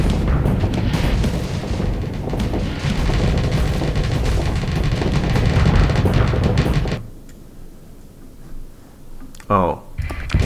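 Heavy booming explosions from looted Path crawlers in the space game Starsector, a dense continuous barrage of rumbling blasts that cuts off abruptly, followed by quieter clicks and a short sweep.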